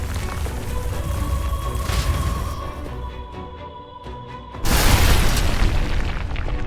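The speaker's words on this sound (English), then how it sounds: "Brace yourselves. It's collapsing." A building collapses in the video game Metaphor ReFantazio, a sustained loud rumbling crash that eases off, then surges again into a heavy roaring burst of falling debris near the end.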